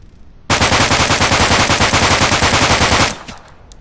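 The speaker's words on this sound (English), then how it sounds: "Then the UMR, again one of my favorites because the .45 ammo." The UMR fires .45 ammo in full-auto in the video game Deadside, a loud, close burst of rapid, evenly spaced shots lasting about two and a half seconds before cutting off into a short echoing tail.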